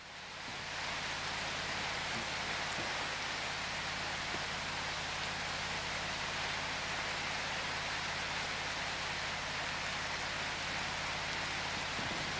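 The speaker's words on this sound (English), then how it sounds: "That rain looks a little weird, but it's not too bad, to be honest." Steady rain falls in a video game scene, a dense, even hiss of drops that holds at a constant level from start to end with no voices over it.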